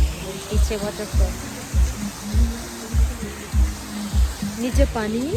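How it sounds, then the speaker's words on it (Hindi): Small waterfall in Gangtok, Sikkim, giving a steady broadband rush of falling water close by, with someone talking over it throughout. "देखो पीछे वाटरफॉल"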